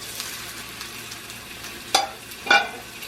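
Chicken breasts fry in extra virgin olive oil for chicken Florentine, giving a steady low sizzle with two brief louder crackling flare-ups near the end, close and alone.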